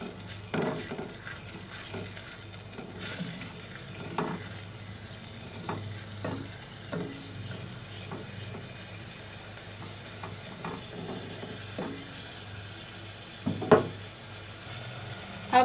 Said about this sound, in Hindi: अब हम इसको भूनेंगे टमाटर को।